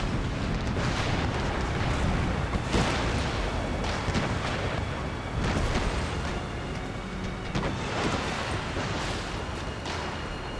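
Cannons in the naval battles of Empire: Total War boom again and again, with heavy rumbling blasts arriving in irregular bursts over a continuous roar of battle and no voices.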